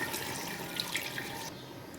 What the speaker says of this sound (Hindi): इसमें पानी को शामिल कर देंगे,